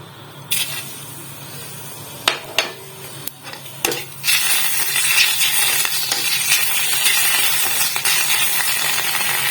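Tomato goes into onions dry-roasting in a pan without oil: a few sharp clacks and scrapes come first, then a loud continuous hiss and sizzle rises and holds, close by and without talk.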